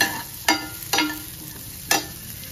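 Cauliflower stir-fried with chili powder and salt, a soft sizzle beneath three sharp spatula scrapes against the pan, spaced unevenly, with no talking.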